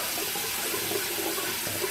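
Hot water runs from a tap for rinsing, a steady, close hiss and splash that stays constant from start to finish with no voices.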